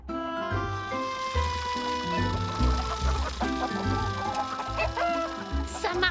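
Several hungry chickens cluck and chatter over one another, busy and fairly close, with a brief higher squawk near the end.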